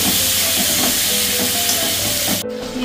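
Parboiled potatoes sauté with spices in a hot pan, giving a loud, continuous sizzle and hiss that holds steady with a brief stir-like disturbance near the end.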